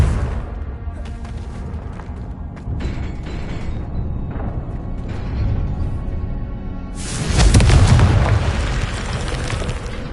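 The Confringo spell in Hogwarts Legacy goes off in a loud, close explosion, with a heavy boom and a burst of crackling noise that flares up midway and then fades under the game's ambient rumble.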